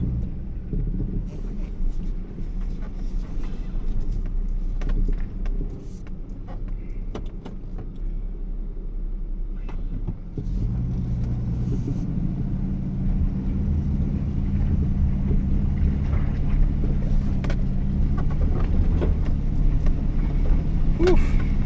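A half-ton pickup truck hauling a heavy load of birch firewood grinds along with a steady engine rumble that rises midway as the wheels spin, the cab rattling, with people talking briefly inside.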